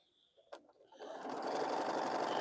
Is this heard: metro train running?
no